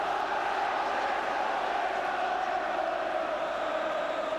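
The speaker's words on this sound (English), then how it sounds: "But you can hear what the crowd feel about it." Football stadium crowd at a second division match, Manchester City v Charlton Athletic, a continuous roar of cheering and shouting, loud and steady throughout with no breaks.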